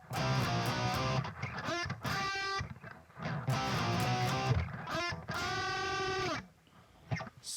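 A distorted electric guitar plays a passage in loud, dense bursts, with wavering bent notes and short breaks between phrases. The guitar is close and alone, ending in a quieter tail.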